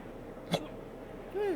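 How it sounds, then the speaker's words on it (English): A single short, sharp hiccup bursts out near the start, standing alone against a quiet room background, with a faint vocal sound following toward the end. "Seem to have gotten the hiccups."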